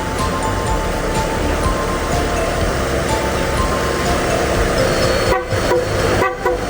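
A car horn honks loudly and steadily up close after its wiring was repaired, sounding as one long continuous blare with a couple of brief breaks near the end.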